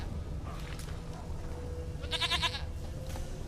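A goat in The Witcher 3 lets out a few short bleats over quiet game ambience, with one brighter, louder bleat near the end.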